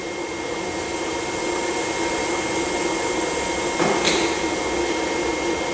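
A Nissan forklift engine runs at a steady idle, making a continuous, even drone that holds at the same level throughout, with a brief sharp click near the end.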